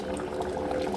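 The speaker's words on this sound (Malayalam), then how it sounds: "ചിക്കൻ കറി അങ്ങനെ തിളച്ച് പരിവായി വന്നിനി." Chicken curry boils in a pot, giving a steady, dense bubbling and simmering that stays close and even throughout the short moment, with no voices.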